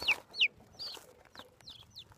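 Chickens cluck inside a coop at night in a series of short, sharp, fairly close calls, spaced irregularly over a quiet background.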